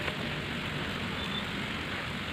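Light rain falls steadily at a hillside temple, a soft even hiss of drops on surfaces filling the whole stretch without pause, with no voices over it.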